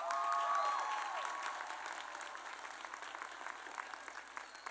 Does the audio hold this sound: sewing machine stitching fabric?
no